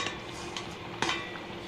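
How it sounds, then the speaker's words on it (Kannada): Metal clinks sound as a plate is set over a pot of ragi mudde on the stove, a few light knocks with one sharper clatter, quiet kitchen background, no talk. "ಒಂದು ಪ್ಲೇಟನ್ನು ಮುಚ್ಚಿ"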